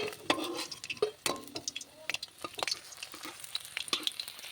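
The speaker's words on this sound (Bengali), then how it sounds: "এবারে চিকেনগুলো একটা একটা করে ভেজে নিতে হবে পকোড়ার মতো করে" Chicken pieces frying in oil like pakora for restaurant-style chilli chicken: a faint, close crackle of sizzling with scattered sharp pops and light clinks of utensils.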